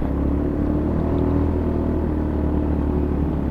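A motorcycle climbing a steep hill road on the Puncak 2 route labors with a steady, heavy low engine drone, continuous and close throughout with no voices.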